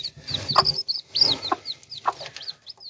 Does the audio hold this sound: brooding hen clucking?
yes